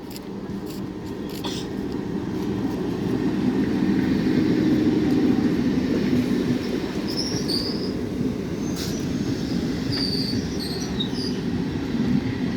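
A Bandel–Naihati local train rumbles steadily past a station platform at close range, wheels clattering on the rails, with high metallic squeals breaking out in the second half.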